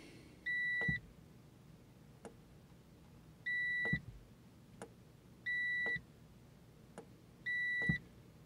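An Ecotrek inverter/charger gives four short electronic beeps, one at each setting-button press, spaced a second or two apart and quiet, with soft clicks between and no talk.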